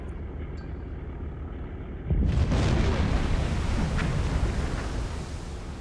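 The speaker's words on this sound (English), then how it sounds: "tube 10, the QT torpedo has struck home" Torpedo striking a ship in Silent Hunter 4: Wolves of the Pacific, a sudden deep booming explosion that swells out of a low ambient hum and rumbles on for several seconds.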